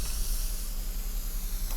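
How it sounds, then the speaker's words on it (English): A spray can hissing in the Teardown video game, a continuous, even aerosol spray that runs steadily for the whole stretch under a low background hum. "Get your spray can out for instructions."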